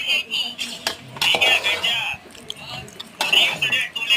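A spoon scrapes and clanks against a metal pan as homemade red chili powder is mixed into chicken for a village-style dish, with loud metallic strokes in bursts and pauses.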